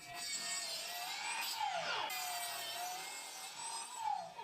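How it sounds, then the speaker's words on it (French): A spinning miter saw blade whines loudly, dipping in pitch as it bites into plywood a couple of times, then spinning freely again. "Ensuite, je coupe de longueur à la scie à onglet."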